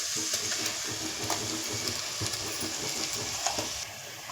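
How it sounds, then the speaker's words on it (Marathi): Tomato paste fries in a pan on low heat for shev bhaji, giving a steady close sizzle with soft stirring scrapes and small bubbling pops, no voices. "तर आता टोमॅटोची पेस्ट केली होती ती टाकूया."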